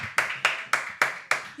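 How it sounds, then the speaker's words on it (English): Hands clap five or six times in a steady, moderately quick rhythm, sharp and close, with nothing else around them. "But I'm still clapping up for y'all."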